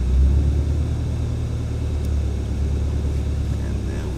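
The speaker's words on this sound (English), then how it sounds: "I go in the first gear. Slowly release the clutch while adding a little bit of gas." A Ford Mustang GT350 with a manual transmission pulls away slowly in first gear, its engine giving a steady low rumble that stays fairly even throughout, with a faint constant hum above it.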